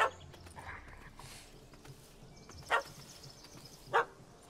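Dog barking in the video game The Witcher 3, two sharp separate barks, moderately loud against a quiet ambient game background with faint distant sounds.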